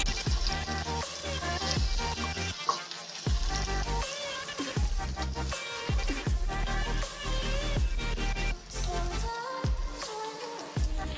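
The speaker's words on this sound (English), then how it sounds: "Fry until they become golden brown in color." Malai chaap frying in hot oil in a pan, a steady busy sizzle running throughout with occasional stirring knocks and spatters, close and fairly loud, no talk.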